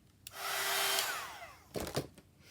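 A hair dryer is used on a junk journal page, a close whooshing blow that starts suddenly, holds for about a second and a half and fades, followed by a few bumps and rustles of handling.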